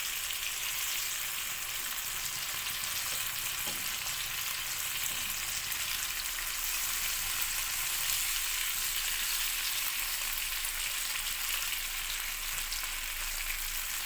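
Kili meen fish cooks on a banana leaf in a hot pan, giving a steady, even sizzle and crackle that carries on alone at close range without a break.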